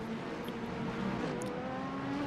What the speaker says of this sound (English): Heads up, there's a car rejoining.